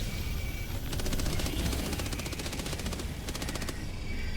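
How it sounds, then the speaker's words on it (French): Rapid machine gun fire in the video game Helldivers 2, sustained bursts of fast repeating shots over a steady background din, with no talking. "J'ai la mitrailleuse aujourd'hui."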